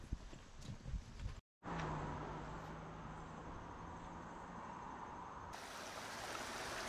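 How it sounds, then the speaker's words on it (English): Rushing creek water flowing beneath the historic Knox Covered Bridge in Pennsylvania, a steady broadband wash heard close and continuous, briefly cut out then resuming, with a faint low hum running through part of it. "The sound of the rushing creek, looking up at the bridge."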